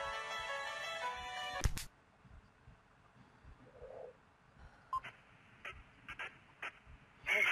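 A mobile phone ringtone in a horror video game plays loud and steady, then cuts off abruptly, leaving quiet ambience broken by scattered short beeps and clicks.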